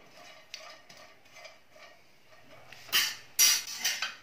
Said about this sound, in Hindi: इनको भी ड्राई रोस्ट करेंगे।